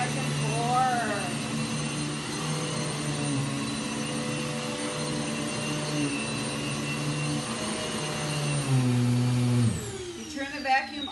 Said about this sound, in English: Keep pushing the vacuum back and forth.